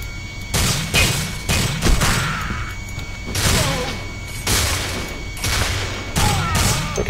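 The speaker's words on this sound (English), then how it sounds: "I can shoot through the window." In the video game Alpha Prime, repeated gunfire is shot through a window in loud, heavy bursts with short gaps between them, over a constant background rumble.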